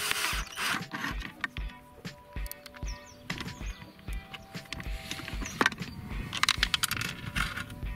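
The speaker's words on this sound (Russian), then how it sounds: "Берем шуруповерт, отвертку, пару саморезов." A cordless screwdriver drives self-tapping screws into a fastening block, short whirring bursts with clicking and ratcheting, close and moderately quiet, with handling knocks in between and no speech.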